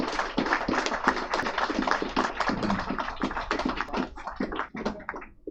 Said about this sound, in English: let's hear a round of applause for Color Switch